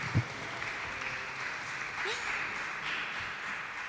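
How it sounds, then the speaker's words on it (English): An audience applauds the speakers at a cultural heritage event with steady, quiet clapping that carries on throughout, heard from some distance. "A clap to all of our speakers."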